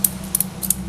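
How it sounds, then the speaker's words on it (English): The metal latch on a ratchet strap clicks several times in quick, sharp ticks close to the microphone, sounding over a low steady hum. "when you pull up on that little latch and release it"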